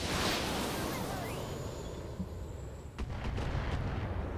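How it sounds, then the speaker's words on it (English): Missile attack from a mech in the BattleTech video game: a dense roar of launches and blasts that fades, then a sharp hit near the end with rumbling explosions after it, loud and continuous. "so we'll attack this guy with missiles"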